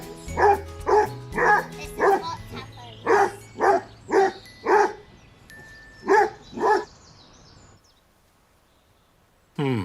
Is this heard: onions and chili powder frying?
no